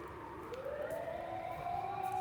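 Emergency vehicle sirens wail along a street in Asakusa at night, a steady rising tone heard at a distance and growing slowly louder over the city hum.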